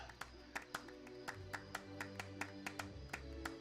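A crowd applauds in Fable Anniversary with faint, steady, evenly paced claps repeating several times a second over a low background hum.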